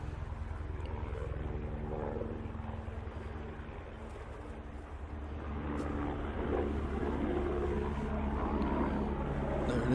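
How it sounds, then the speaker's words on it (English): A helicopter flies near Manchester Airport, a steady low engine and rotor drone that grows slightly louder toward the end, with no talk over it. "Oh, another helicopter, or is it the same one from before?"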